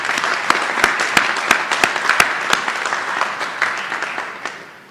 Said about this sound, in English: one more round of applause for President Hardin.